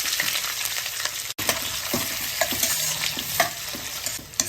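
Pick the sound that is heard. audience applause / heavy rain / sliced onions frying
sliced onions frying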